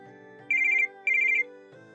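A telephone rings with two clear electronic trilling bursts, loud and close, over a steady tonal background, followed by a brief soft sound.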